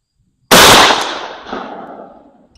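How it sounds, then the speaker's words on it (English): A single loud, close blast from a 12 gauge shotgun firing a .730 pellet slug at an outdoor range, with a sharp crack followed by a long rolling echo that fades out. "here's the first shot"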